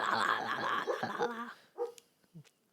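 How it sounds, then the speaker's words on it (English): A dog gives a burst of close barks and yips at the start, then quieter sporadic sounds as it settles. "He's barking at you because he's mad at you."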